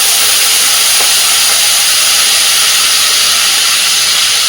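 A mustard and poppy seed spice paste with chilli and tomato is dropped into hot oil over a low gas flame, giving a loud, continuous, close-up sizzling hiss that holds steady throughout.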